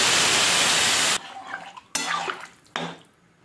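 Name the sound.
pouring water into pan of fried fish curry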